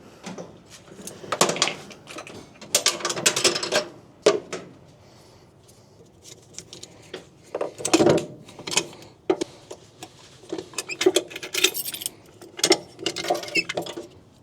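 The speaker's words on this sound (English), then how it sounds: "We're gonna empty this tank out with this little hand pump." A small diaphragm-style hand pump emptying a dump trailer's hydraulic tank, with irregular clunks, squeaks and rattles of strokes coming in uneven bursts, close and moderately loud, with quiet gaps between.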